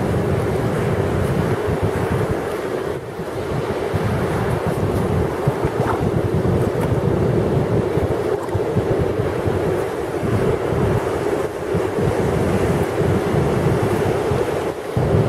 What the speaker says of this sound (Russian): Да, это океан, детка.